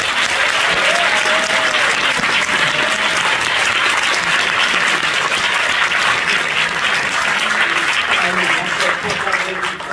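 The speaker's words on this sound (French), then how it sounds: "On peut les applaudir bien fort." At a film festival closing ceremony, a full audience applauds the volunteers loudly and steadily for ten seconds, with dense unbroken clapping and a murmur of crowd voices underneath.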